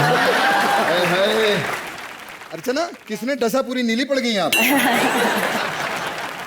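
Studio audience applause on a Hindi comedy TV show, a broad wash of clapping at the start and again near the end, with people talking and some chuckles in the middle.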